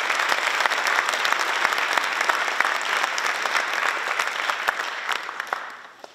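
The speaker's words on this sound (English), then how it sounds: "I would like to just offer another round of applause to the young ladies." Sustained applause from a crowd at a high school National Honor Society induction ceremony, dense and steady clapping that fades out near the end.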